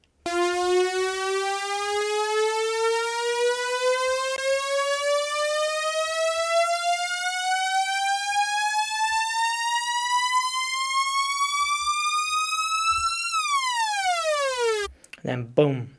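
Synth riser for a house track: a bright, harmonic-rich tone sweeps steadily upward for about thirteen seconds, then plunges downward in a quick fall before a brief burst of noise at the end, loud and alone.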